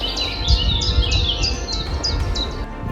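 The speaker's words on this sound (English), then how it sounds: "just listening to the birds" Several birds chirp and sing in quick repeated phrases beside a mountain bike trail, bright and fairly close, over a low rumble of wind and movement with no talking.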